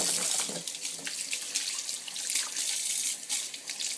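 Omega VRT350 juicer parts washed in soapy water under a running tap, a close, bright splashing and gushing that rises and dips continuously over four seconds, with no voices.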